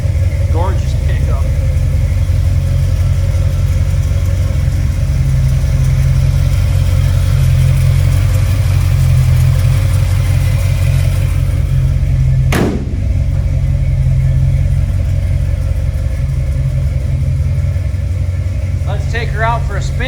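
A 1972 Chevrolet C10 short bed pickup's engine idles with a loud, deep, steady rumble up close, briefly interrupted by a sharp transient midway, while voices are faintly present over the running engine.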